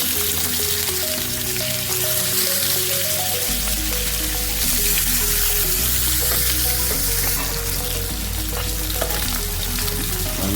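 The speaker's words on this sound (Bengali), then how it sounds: "তেল গরম হলে আমরা মাছগুলো গরম তেলে ভেজে নিব।" Katla fish fry in hot mustard oil in a pan, a loud, steady, dense sizzle that carries on without a break and stays close to the listener. Soft stirring and utensil scrapes come through underneath. No one speaks.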